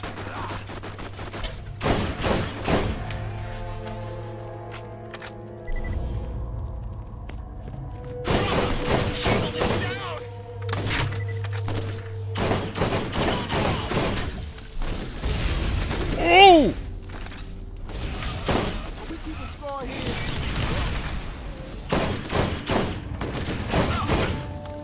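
Repeated bursts of video game gunfire from Borderlands: The Secret Armory of General Knoxx, heavy volleys and single thumping shots spread across the stretch, mixed with game effects and some talk.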